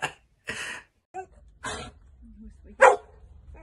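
Two healthy dogs bark in sharp, separate bursts, with a few loud barks spread across a few seconds, then one more bark near the end after a softer pause.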